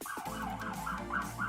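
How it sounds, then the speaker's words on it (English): An ambulance siren wails past, its rising and falling tone sweeping steadily and fairly loud across the whole moment with no talk. "Ooh, ambulance driving by."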